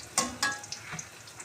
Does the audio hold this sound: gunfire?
no